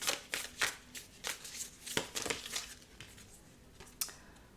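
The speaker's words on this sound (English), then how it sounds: "I didn't realize I was shuffling the deck in reverse" A deck of tarot cards is shuffled by hand, giving a series of quick, crisp riffling and flicking bursts in an irregular rhythm, close up and fairly quiet, with no one talking.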